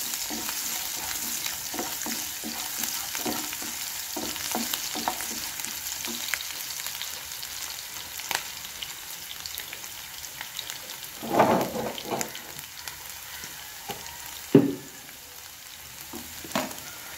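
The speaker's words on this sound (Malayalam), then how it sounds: "വെളുത്തുള്ളിയുടെ ആ പച്ചക്കുത്ത് പോകുമ്പോഴും നമുക്കൊന്ന് നന്നായി ഇളക്കിയെടുക്കാം." Garlic fries in hot oil in a pan for a pickle, with a continuous dense sizzle and crackle and soft stirring scrapes throughout, plus a few louder clatters near the end.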